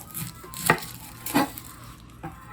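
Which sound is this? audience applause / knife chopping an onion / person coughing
knife chopping an onion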